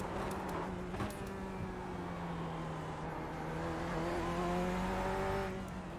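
A C8.R Corvette race car engine in the iRacing sim holds a fairly quiet, steady drone with gradual pitch shifts as it pulls through the revs. No one talks.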